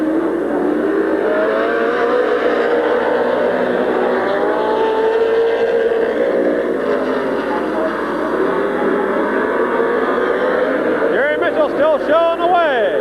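Stock cars racing at Midvale Speedway in 1994, a steady roar of engines rising and falling as they circle the track, with an announcer talking over it and a burst of revving near the end.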